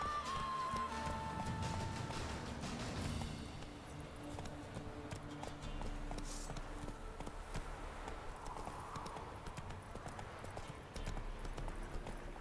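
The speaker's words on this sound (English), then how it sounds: "Horse's fear level is rising." Horse hooves in the Witcher 3 video game, a steady rapid clip-clop of galloping and trotting running continuously at moderate loudness, with faint ambient game sounds and an occasional snort behind it.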